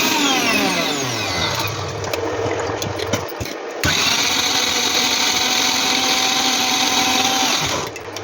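A mixer grinder whirs loudly and steadily while grinding tender tere leaf chutney with salt and water, with a brief dip in the motor noise partway through before it resumes at full strength.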